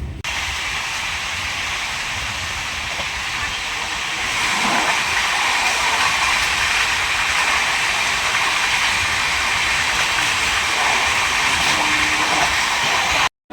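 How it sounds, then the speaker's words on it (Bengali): The Rupasi Bangla Express pulls away from a station with a continuous broadband rumble that swells slightly as it gathers motion, steady and fairly close. "এই যে ট্রেন আবার ছেড়ে দিল।"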